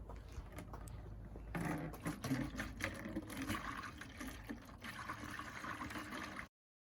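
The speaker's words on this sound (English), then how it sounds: "I'm going to put the old antifreeze using a funnel into the empty bottles of the antifreeze I just put in the truck" Old antifreeze drained from a 2002 Ford F-150 V8's cooling system is poured slowly through a funnel into empty bottles, giving a soft, steady trickling and gurgling that starts after a brief pause and runs close by until it stops.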